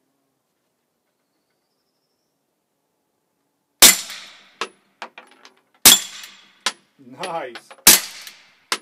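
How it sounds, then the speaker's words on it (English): Canik TP9 SF pistol fired with a Vortex 9 suppressor, three sharp cracks spaced about two seconds apart after silence, each followed by mechanical clatter and a short spoken remark between shots. "It's very quiet shooting."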